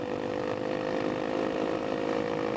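A 2017 Honda CRF250L engine runs steadily while being ridden, running lean on deceleration. It gives a close, continuous buzzing drone at fairly high revs with no break.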